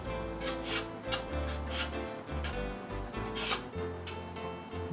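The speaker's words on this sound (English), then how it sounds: "So I just have a handheld knife sharpener, and you just want to do this a few times." A kitchen knife drawn repeatedly through a handheld sharpener makes a rhythmic series of close, gritty rasping strokes over a steady tonal background.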